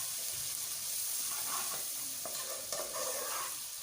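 Arvi (colocasia) leaf spice paste with turmeric and cumin is stirred in a bowl, giving a soft, steady wet scraping and mixing that runs throughout without pause, with no talking.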